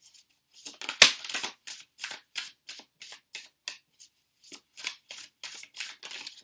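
Tarot cards of a 12-card love reading spread are shuffled, handled and pulled one by one, giving a run of crisp papery flicks and slides with one sharper snap near the start, close up and with no talking.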